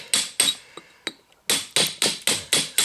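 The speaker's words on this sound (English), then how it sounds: "And then you start working it with the flat chisel." Hammer blows strike a flat chisel cutting stone in a mason's work, about ten sharp ringing impacts, close and loud, a few in an irregular start and then a steady even run of strikes.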